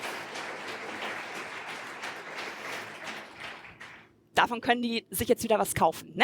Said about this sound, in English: Please give an applause to caregivers.